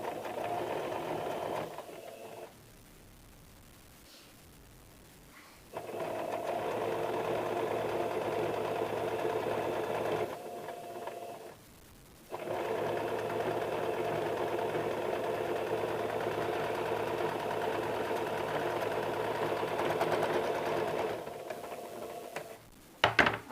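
A sewing machine makes a double line of stitching on a size 40 four-tuck blouse, humming through several long, even runs broken by short quiet pauses, close and alone without any talk.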